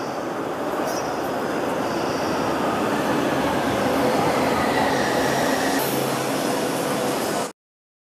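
Steady rumbling roar of a Delhi Metro train running along the tracks, with a faint high squeal of wheels near the end before it cuts off.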